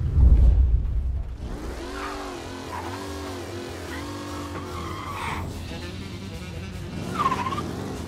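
A car in Mafia: Definitive Edition driving and skidding, starting with a loud engine rumble, then a long, wavering tire squeal through the middle and another brief squeal near the end, close and without talk.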